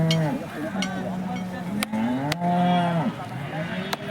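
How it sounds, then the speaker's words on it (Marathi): Bulls at the Peth Vadgaon cattle market low in several long, close moos that overlap and rise and fall, with a few sharp clicks and a busy market murmur behind them. "कोणकोणत्या प्रकारचे बैल आलेले आहेत त्याची आपण आता माहिती घेऊया"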